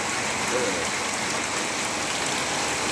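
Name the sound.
rain falling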